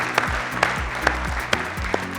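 Studio audience on a televised quiz competition claps sparsely, with separate sharp claps landing about every half second over a low, sustained musical background.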